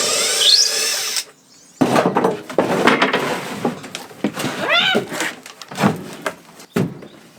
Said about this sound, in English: We're gonna unscrew all of these panels